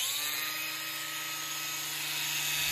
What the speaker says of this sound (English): This brushless motor is now ready to grind.